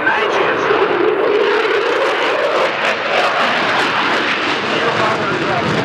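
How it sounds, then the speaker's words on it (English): An Italian Eurofighter Typhoon jet performing high-G manoeuvres at an airshow at Leeuwarden in 2011, a loud continuous roaring engine rush that swells and holds steady throughout. "the aircraft will stay for the whole show between 7 and 9 Gs"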